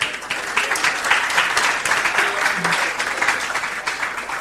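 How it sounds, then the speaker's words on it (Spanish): An audience at a church finance seminar gives steady, sustained applause, a dense wash of clapping that holds at an even level throughout. "un aplauso, gracias."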